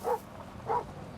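A police K9 dog gives two short, yelping barks about half a second apart, moderately close against low background noise.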